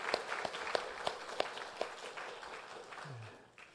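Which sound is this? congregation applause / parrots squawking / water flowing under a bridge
congregation applause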